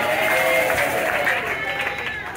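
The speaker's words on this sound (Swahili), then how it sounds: "Yesu makofi" A church congregation claps together in a dense, continuous burst of applause that fills the room, with a voice and crowd murmur mixed in beneath.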